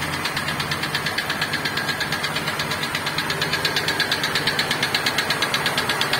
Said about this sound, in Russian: Зачем тогда обращать внимание на посторонние звуки от двигателя?